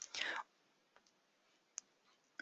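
A computer mouse clicks on icons, a few faint, sparse, sharp clicks spaced out in a quiet room after a brief soft murmur at the start.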